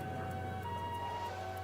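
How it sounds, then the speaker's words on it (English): Ambulance siren from the Crossbell streets in the video game Trails to Azure, a steady wailing tone sitting low and faint in the game's mix, without any speech over it. "I heard the sirens, and I was wondering if that was us"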